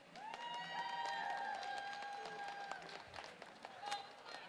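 A robotics competition crowd at a FIRST Tech Challenge qualifier gives a brief cheer of whoops and shouts, loud at first and fading over a few seconds, while an announcer speaks.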